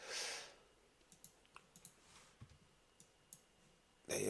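A computer mouse gives a string of faint, light clicks at an irregular pace, quiet and close, with brief louder noise at the start and end and no talking.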